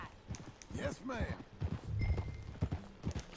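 A horse ridden at a walk in Red Dead Redemption 2 gives a rhythmic clip-clop of hooves under in-game voices and music.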